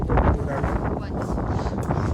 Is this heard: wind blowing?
yes